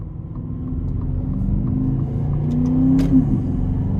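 A 2022 Aston Martin DBX engine and exhaust pull steadily under acceleration, heard from the cabin as a smooth rising rumble with a brief higher whine near the end.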